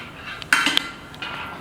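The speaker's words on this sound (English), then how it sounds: "I was stirring our marinade" A utensil stirs meat marinade in a bowl, giving a few brief clinks and scrapes against the side, close and quiet, with short pauses between strokes.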